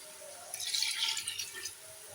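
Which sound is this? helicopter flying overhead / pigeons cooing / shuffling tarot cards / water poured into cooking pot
water poured into cooking pot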